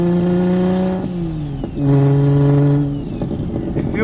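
A fully built BMW N54 single-turbo car pulling away, with loud engine tones climbing through revs, a brief lift and shift near the middle, then another strong rising pull before easing off, close and without talk.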